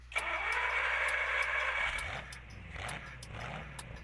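A tractor engine in Farming Simulator 19 cranks with a starter whir, catches and settles into a low idle, a steady rumble with faint repeated clicks on top.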